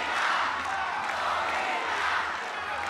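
A crowd at a live strawweight title fight in Jakarta roars loudly and steadily, sustained cheering and shouting filling the arena for the whole stretch.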